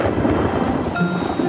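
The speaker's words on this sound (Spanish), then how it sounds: "Pocoyo puede usar la lluvia para limpiar a Lula." Steady heavy cartoon rain in Pocoyo pours with a rumbling, rushing texture, loud and continuous for the whole moment.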